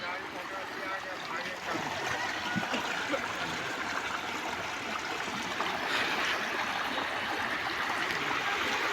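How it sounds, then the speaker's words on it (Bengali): Fast-flowing water rushes through a village stream in a steady, broad hiss, close and fairly loud, with a voice talking faintly over it at times. "এই যে দেখুন কত গতিবেগ আছে জলের।"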